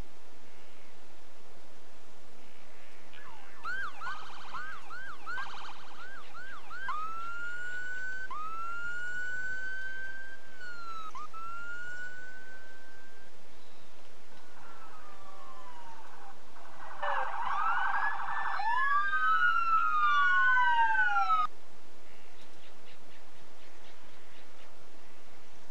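Ambulance siren in the video game Emergency 4, wailing in repeated rising and falling sweeps, faint at first and then louder before it cuts off.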